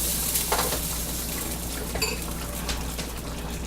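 Oxtail gravy thickened with flour simmering in a pot, a steady bubbling sizzle with faint stirring clinks and a soft scrape or two over the top.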